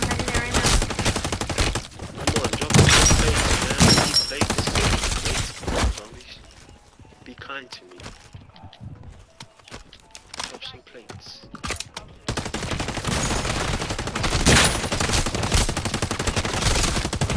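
Rapid gunfire from a gun in the MW3 Zombies video game, dense bursts filling the start and end with a quieter stretch in between, mixed with game effects and occasional talk.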